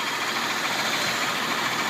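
A Toyota 3.4L V6 idles steadily with a fast, even ticking under its broadband engine noise, close up and continuous, with no voices.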